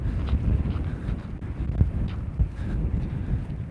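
Wind gusts across a hiking trail, buffeting the microphone with a loud, continuous low rumble that rises and falls, with no voices.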